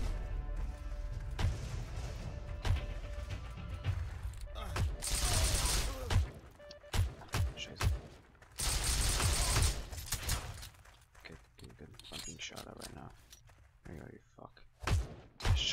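Rapid C96 pistol fire in the shooter Heroes & Generals, heard as bursts of sharp shots with loud noisy stretches between quieter moments, with someone talking over much of it.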